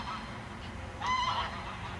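Geese honking in agitation after a seagull snatched one of their goslings, a brief cluster of nasal honks rising over a steady outdoor background hiss, moderately distant.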